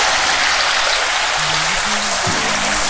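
Water pouring in a garden curtain-style waterfall, giving a loud, constant rushing wash close by, with a faint low tone partway through.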